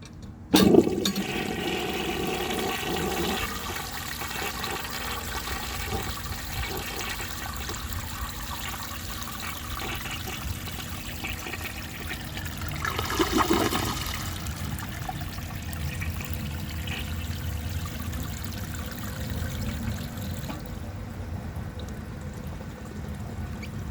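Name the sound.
1930 Eljer Sanus toilet flushing and siphoning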